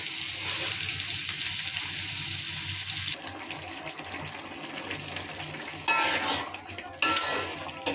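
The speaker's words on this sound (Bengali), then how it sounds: "শাকে দেওয়ার জন্য তেলটা গরম করছি, রসুন পেঁয়াজ দিয়ে একসাথে।" Garlic and onion sizzle in hot oil as spinach is cooked. A steady, bright frying hiss comes with utensil clatter and stirring, swelling in louder bursts toward the end, close and with no talk.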